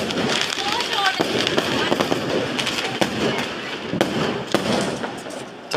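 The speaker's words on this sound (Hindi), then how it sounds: "फिर से रॉकेट चला रहे हैं" Firework rockets are launched during Diwali celebrations, giving repeated sharp cracks and pops with brief whistles over a noisy crowd. People talk and shout excitedly throughout.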